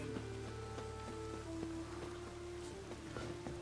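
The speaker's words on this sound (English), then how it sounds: "And it's raining again." Steady rain falls through a Witcher 3 game scene, a continuous soft hiss of drops with faint tonal game ambience and occasional small clicks running beneath it.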